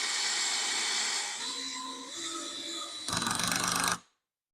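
A power drill drives a screw in a steady whirring run that shifts pitch partway, then a louder rattling burst as the bit bites before it cuts off abruptly into silence.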